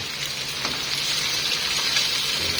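Pork liver sautéing in a pan with plenty of garlic, a close, continuous sizzle and crackle of frying with no talk.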